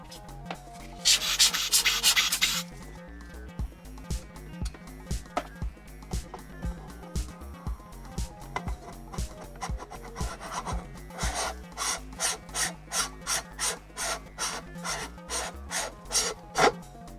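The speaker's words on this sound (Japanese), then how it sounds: "カメラ本体をねじ込みます。" A SVBONY SV405CC cooled CMOS astronomy camera body being screwed on by hand, making close rubbing and rasping scrapes that settle into a quick, steady run of short, rhythmic grinding strokes. No one speaks.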